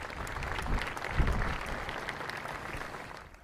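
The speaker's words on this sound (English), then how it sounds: "I hope you'll all give them a big round of applause." A crowd at the opening ceremony for the new I-74 Mississippi River Bridge claps in sustained applause of moderate loudness that swells briefly and then slowly fades.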